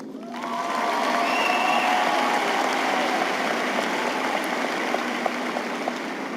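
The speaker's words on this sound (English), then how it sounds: "Can we get a round of applause for the Plano West graduating class of 2013?" Graduation audience in a large auditorium applauds and cheers for the Plano West Senior High class of 2013, a broad sustained wash of clapping that swells quickly and holds steady, with a few sharper claps standing out.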